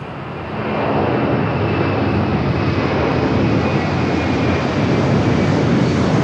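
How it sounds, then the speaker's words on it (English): A Hawaiian Airlines Airbus A330 jet on flight 9 to Honolulu departs Los Angeles, its engine roar swelling within the first second and then holding loud and steady, close by and free of speech. "Got that Hawaiian A330 flight 9 heading to Honolulu,"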